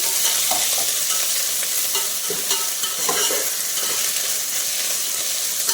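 Ginger frying and being stirred into bagara rice base in a pan, a steady dense sizzle with hissing steam and intermittent scraping stir strokes, close and loud throughout with no talking.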